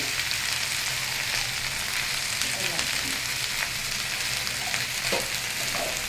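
Sliced okra frying in oil with salt and turmeric, a loud continuous sizzle with a few faint stirring knocks toward the end, near and uninterrupted by talk.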